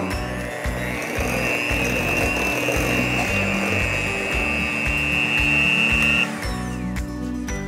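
A hand whisk mixes akara bean batter with added salt and seasoning powder, making a steady, close whirring and rubbing sound that holds for about six seconds before easing off.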